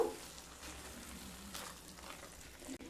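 Spinach and gram flour sabji stirring in a pan with ghee, a soft, steady sizzle with faint scraping, heard up close and alone.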